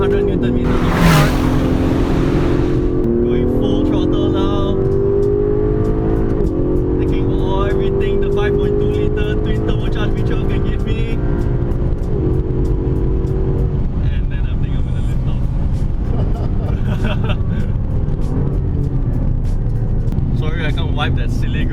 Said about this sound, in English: unleash the full 600 horsepower, more than 700 Newton meters of torque. Going full throttle now.